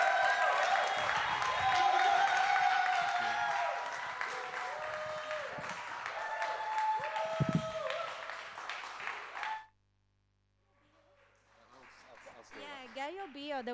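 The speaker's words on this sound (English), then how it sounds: "So huge round of applause." An audience at a live comedy show breaks into loud, sustained applause with some cheering for about nine seconds, then it cuts off to near silence and a quiet voice begins to speak.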